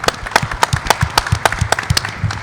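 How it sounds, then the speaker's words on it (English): Brief scattered clapping from a small audience honoring Dr. Giannakopoulos at a chamber event, a few dozen quick claps close by with no voices. "So round of applause for you"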